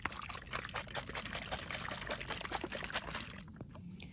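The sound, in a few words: shaking poultry water with vitamins and electrolytes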